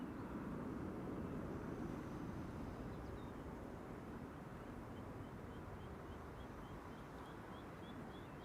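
A Delta Airlines airliner at Amsterdam Schiphol Airport gives a steady, distant jet roar that fills the background and fades slightly, with faint chirps on top.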